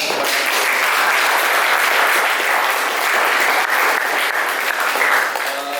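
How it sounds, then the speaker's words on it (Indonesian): Enthusiastic audience applause fills the room at the close of an academic presentation event, a dense, steady roar of many hands that holds loud and even throughout. "Mari kita berikan tepuk tangan yang meriah."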